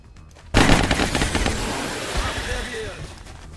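Gunfire in the video game XCOM Long War, a sudden loud burst of rapid automatic shots that opens into a dense rattling barrage and then decays into a lingering rumble, with a voice talking underneath.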